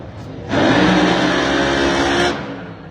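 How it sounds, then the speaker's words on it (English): A nitro Top Fuel funny car launches off the starting line at a drag strip, a sudden violent blast of engine roar bursting in after a quieter idle, holding loud for almost two seconds before cutting off abruptly. "That car had a sweet move off the starting line."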